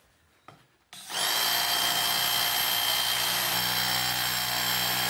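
A pneumatic hammer drill bores into concrete, starting after a few quiet knocks and then roaring loud, close and continuous with a steady high whine.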